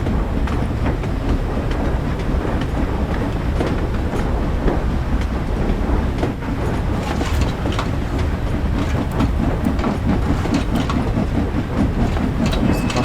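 Steam train running on a railway in the video game Train Sim World 5, a steady loud rolling rumble with rhythmic wheel clatter and rail noise throughout, with no talk over it.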